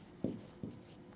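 Two short, faint scratches of writing on a board or paper sound during a math lesson, about 0.4 seconds apart, in a quiet room.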